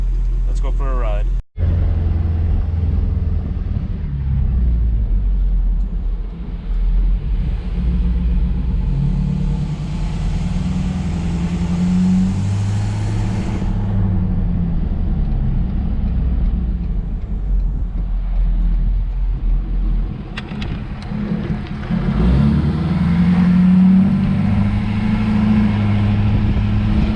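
A Ford 6.7 Powerstroke diesel pickup with a new diesel particulate filter drives along, its engine rumbling low and steady from inside the cab, swelling as it accelerates and easing off, with a voice talking over it at times.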